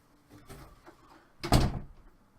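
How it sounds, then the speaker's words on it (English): A room door swung shut indoors, with a soft scuffing movement first and then one solid close-range thud, no voices. "I have to shut my door."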